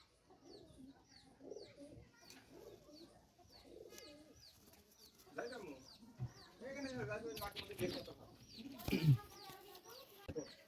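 High-flying pigeons kept in a loft in Jessore, Bangladesh, cooing repeatedly in soft, close, rhythmic calls, with other fowl clucking nearby and someone speaking over them.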